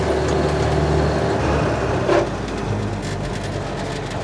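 A 1948 Willys Jeep CJ2 engine drones close by as it shifts into second gear, the low rumble dipping briefly, with a short clunk of the change, then pulling steadily on along the road.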